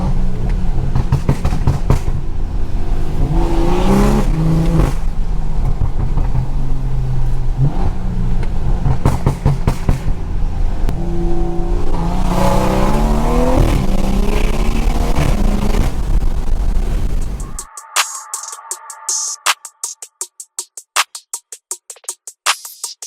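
A Stage 2 tuned BMW accelerates hard through repeated pulls on a snowy day, a loud, close, surging engine roar with shifts, then it drops off abruptly into sparse clicking and quieter cabin noise.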